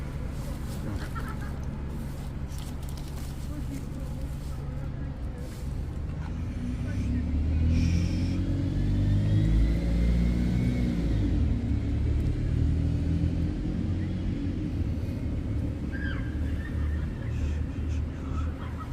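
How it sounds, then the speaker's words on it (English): A bus pulls in and stops at a bus stop behind a B&M store, a deep engine rumble swelling in the middle and holding steady, with birds clucking faintly and people talking nearby. "bus just stopped at the bus stop"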